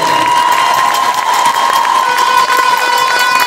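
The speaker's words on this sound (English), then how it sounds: "Please give another round of applause for both teams and their great play in the championship final." A junior girls' basketball championship crowd in a gym applauds and cheers loudly and continuously, with shouts mixed into a dense roar of clapping and a high whistle-like tone running throughout.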